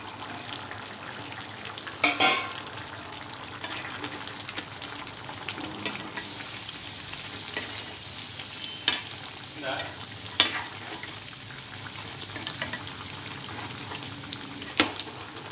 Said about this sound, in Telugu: వాటర్ వేసిన తర్వాత మూత పెట్టి చికెన్ని మెత్తగా ఉడికించుకోవాలి.